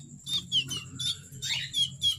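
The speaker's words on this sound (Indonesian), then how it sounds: "Ini anakan kenari usia 2 bulan." A two-month-old canary chirps repeatedly in quick, high-pitched bursts, close and clear over a low steady background hum.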